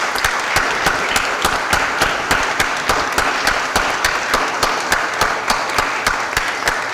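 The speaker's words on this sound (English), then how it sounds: "let's give them a real round of applause" Audience at a St. Louis Board of Aldermen council meeting gives a standing round of applause, steady dense clapping from many hands filling the room, loud and sustained throughout without talk.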